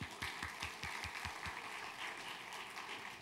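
A church congregation at a Taiwanese-language worship service applauds, with a few distinct claps at first settling into steady, moderately distant clapping over a short stretch, without speech.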